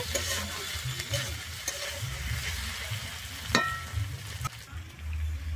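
Cauliflower stalks fry in oil in a pan kept under a lid, giving a soft, continuous sizzle. Occasional light clinks and stirring knocks are heard, and the sound stays moderately faint throughout.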